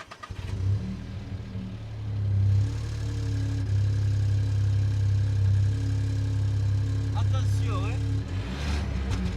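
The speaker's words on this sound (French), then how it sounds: "On va démarrer la voiture" Volkswagen Up! GTI small engine starting, then a steady loud idle and exhaust drone with a brief blip of revs near the end, under a few spoken words close to the car.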